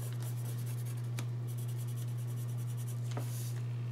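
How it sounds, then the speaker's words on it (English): A pencil scribbling on paper while making artist trading cards, close and continuous with rhythmic back-and-forth scratching strokes over a steady low electrical hum. "You can just scribble it on there and do it with the brush."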